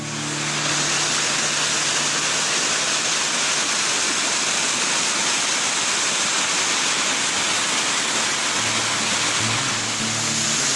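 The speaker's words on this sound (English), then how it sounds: "We're at the waterfall coming into the Rio Higadon, one of my favourite places." A waterfall pours into the Rio Higadon near Nerja, a steady, dense broadband rush of falling water heard close and continuous throughout with no talk.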